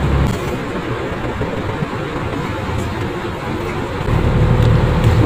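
A Hino 500 truck climbs a slight incline in third gear as its engine is given throttle, a steady low diesel rumble heard from the cab that swells louder near the end, with no talk over it.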